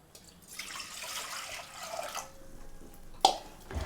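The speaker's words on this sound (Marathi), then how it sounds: "पहिल्यांदा आपण पाणी गरम करायला ठेवू" Half a litre of water poured into a pot for heating, a steady splashing stream lasting a couple of seconds, followed by a quieter trickle and a sharp clink near the end.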